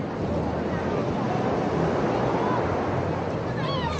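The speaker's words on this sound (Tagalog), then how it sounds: "sobrang lakas ng alon kasi walang naharang na ano, na bato" Strong Pacific Ocean surf at a beach resort roars in a steady, loud wash of broadband noise mixed with wind buffeting the microphone, with faint voices underneath.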